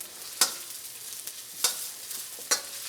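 Freshly cut Thai chili frying in a pan while a long-handled spatula stirs it, a soft steady sizzle broken by three sharp scraping strokes, close and with no talking.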